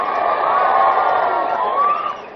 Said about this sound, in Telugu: చప్పట్లు కొడుతున్నారు చూడు